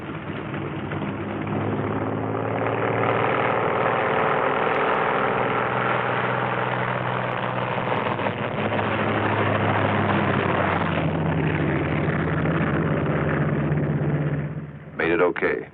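Military aircraft engines drone and idle steadily as planes taxi out in a World War II film, loud and continuous, with voices talking over the running engines throughout.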